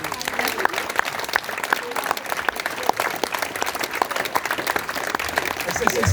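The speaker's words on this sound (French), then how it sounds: "Et je vais encore applaudir." An audience claps continuously at an outdoor community event, a dense, steady patter of many hands with sharp individual claps standing out, and voices mixed in underneath.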